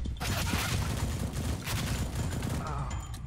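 Gunfire in a Roblox video game, a dense, continuous rattle of shots and mechanical clatter filling the whole stretch at steady loudness, with no clear gaps between bursts.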